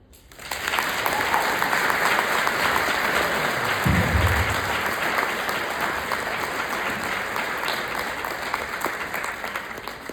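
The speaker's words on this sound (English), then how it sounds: "You can continue that applause for Victoria one more time." An audience at a sorority heart-health gala claps after a keynote speech, with dense, sustained applause that carries loud and even across the whole stretch and only slowly eases toward the end.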